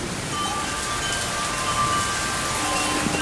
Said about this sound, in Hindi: ये बारिश यूसुफ के वजूद बाबरकत की वजह से बरसी है।